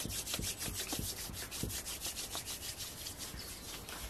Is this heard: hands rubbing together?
yes